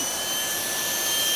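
Bissell Multi-Reach stick vacuum running, a steady loud motor whine and rushing airflow hiss with a thin high tone, close and continuous, with no talking.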